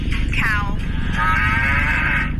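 A cow moos in a long, loud, drawn-out call with a brief lower lowing just before it, set against a steady background hiss.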